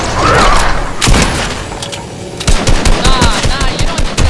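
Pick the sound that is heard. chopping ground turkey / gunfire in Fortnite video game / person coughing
gunfire in Fortnite video game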